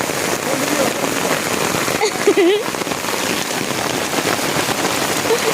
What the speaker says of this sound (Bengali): মুষলধারে বৃষ্টিটা দেখার মতো।